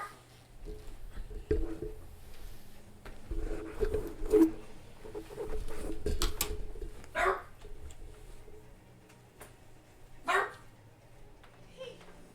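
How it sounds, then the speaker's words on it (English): A dog barks a few scattered times, indoors and not too loud, among low background noise and some faint talk. "Hey, you can't be barking like that."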